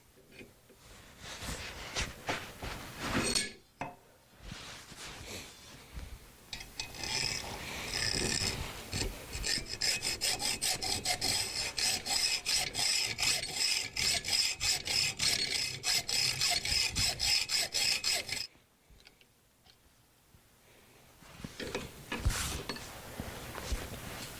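A metal pin on a knife's scales is cut down with a steady, rapid rasping saw-like action. The strokes are close and continuous for many seconds, come in brief bursts at the start, stop for a pause, and then resume briefly.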